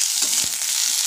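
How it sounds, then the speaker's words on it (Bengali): Potatoes fry in a pan for a vegetable curry, giving a steady broad sizzle with a couple of brief soft stirring scrapes and no voices. "আলু ভাজি হয়ে গেছে"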